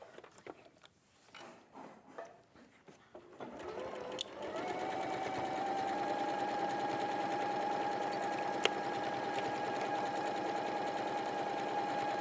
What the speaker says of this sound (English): and then I'm just going to sew that on.